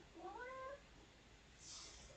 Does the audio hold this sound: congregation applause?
no